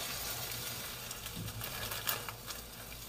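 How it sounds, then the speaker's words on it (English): Chopped onions and carrots fry in a pan, giving a faint, steady sizzle with a few soft stirring clicks, with no talk over it. "Now I'm adding the chopped onions, fry them."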